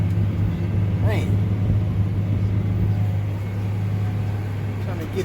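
A farm vehicle's tires spin in a wet, muddy field at peanut planting time, a loud, steady engine rumble close by that holds for the whole stretch.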